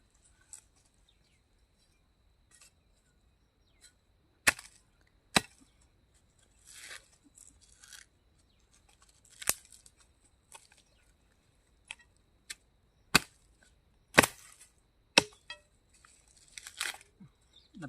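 Sharp, isolated chopping strikes dig out a wild date palm tuber at irregular intervals against a quiet village outdoor background, some louder and some softer, with faint rustling between them.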